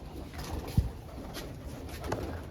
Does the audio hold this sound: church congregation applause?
no